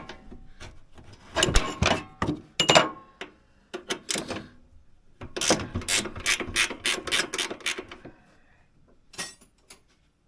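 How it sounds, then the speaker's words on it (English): A 3/4 inch ratchet wrench works on the chassis of a vintage single-cylinder Ski Daddler race snowmobile, giving close, crisp ratcheting bursts in several quick clusters with short pauses between them. "3/4 inch wrench"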